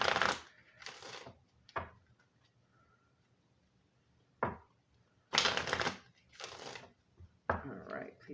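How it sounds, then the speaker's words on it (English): Black Moon Astrology oracle cards being shuffled in several short bursts of riffling, each lasting about half a second to a second, close and crisp, separated by quiet pauses. "let's pull a few cards from the Black Moon Astrology."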